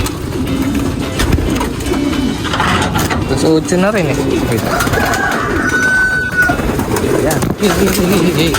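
Pigeons coo steadily close by as they are fed, while a person talks over them, with a constant background hum throughout.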